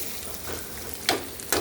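Onion frying in a pan gives a soft, steady sizzle, with two brief scraping stirs near the end; no voices.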